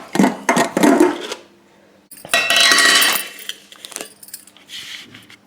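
A steel pressure cooker and the food packets packed inside it are handled, giving bursts of metallic clinks, clanks and rattles with rustling between them, close and fairly loud.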